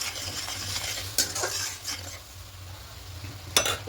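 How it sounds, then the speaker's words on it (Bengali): A spoon stirs salt into a mustard hilsa curry mixture in a pan, with soft scraping strokes over a low sizzle and a couple of sharp clinks against the pan, close up and without talk. "এই লবণটা দিয়ে দেবো, খুব ভালো করে মিশিয়ে নেব।"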